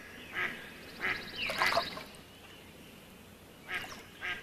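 Several ducks quack in short bursts, a pair near the start, a louder cluster of overlapping calls mid-clip, then two more single quacks near the end, moderately close against a soft outdoor hush.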